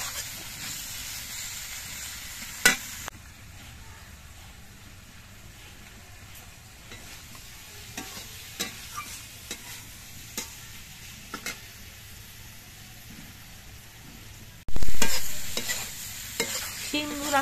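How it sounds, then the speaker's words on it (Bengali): Flat beans, already boiled and soft, are stirred and fried in a pan over low heat, giving a steady soft sizzle with scattered scrapes of the spatula and a louder burst of frying near the end. "শিমগুলো আমি বেশ কিছুক্ষণ ভেজে নিয়েছি।"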